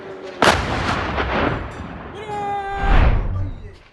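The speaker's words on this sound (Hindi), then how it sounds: "आपने देखा कि कितने खतरनाक हमले थे, धमाके देखे आपने" Explosions from attacks on Israeli military sites: a sharp blast followed by rolling rumbles, then a second heavy boom with a whistling tone before it, loud and close, with a voice briefly audible.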